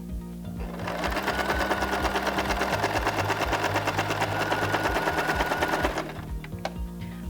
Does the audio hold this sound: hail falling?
no